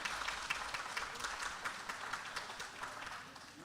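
Audience at a parish annual meeting gives a round of applause, a steady patter of clapping hands in a room that stays fairly quiet and even throughout, with no talking over it.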